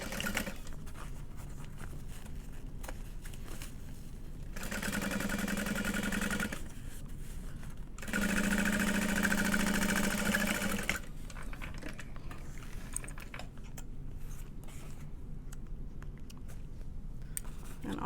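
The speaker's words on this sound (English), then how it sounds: "So then we can sew this shut." Sewing machine stitching a bag lining shut on a hobo bag, running in two short bursts of steady mechanical hum with a quiet pause between them, fairly soft and without talk.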